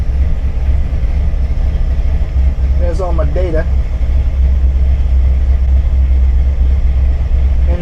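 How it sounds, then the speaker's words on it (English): A 1962 Chevrolet C10 pickup truck engine runs at cold idle with a steady, loud low rumble throughout, while someone speaks briefly over it. "That's the cold idle."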